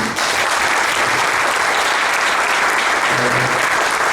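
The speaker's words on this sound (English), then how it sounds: "So I would like everyone to applaud once for him." Audience applause at a book launch event, a dense, steady burst of clapping from a crowd that continues evenly for the whole stretch at close range.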